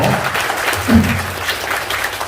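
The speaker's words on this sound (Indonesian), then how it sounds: "Nah, tepuk tangan buat BBM ya." An audience at an Indonesian business community gathering applauds in a dense, steady burst of clapping that carries on evenly from start to finish.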